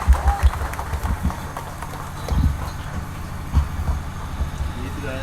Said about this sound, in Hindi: ताली बजाइए, ताली बजाएंगे।